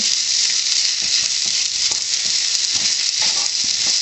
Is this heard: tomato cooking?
yes